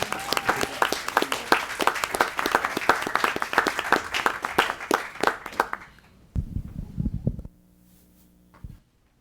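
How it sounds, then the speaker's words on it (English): An audience at a city council meeting claps for the kids, a dense burst of applause that thins out after about six seconds, followed by a few brief thuds and a low hum. "A round of applause for the kids."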